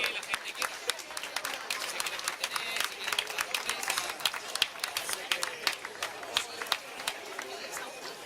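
A crowd applauds at an outdoor trophy ceremony for the Extremadura vertical-kilometre championship, steady mid-level clapping mixed with chatter and a voice announcing over it.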